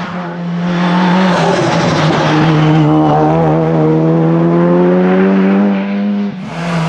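A Lancia race car at the 2013 Hemberg hillclimb blasts close by, its engine note rising in pitch as it accelerates loudly uphill before cutting away near the end.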